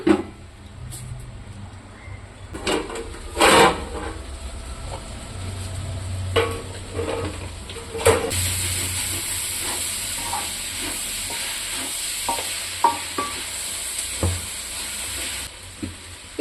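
Nadan Kerala chicken curry being stirred in a pot, with a steady sizzle and hiss under repeated scraping and clinking strokes of a spoon against the pan, close and continuous, no talking.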